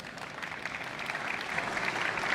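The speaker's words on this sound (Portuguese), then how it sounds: "uma salva de palmas, por favor" Applause at a banking-for-startups tech event as a panelist is introduced to the stage: soft, distant clapping that swells gradually over a couple of seconds.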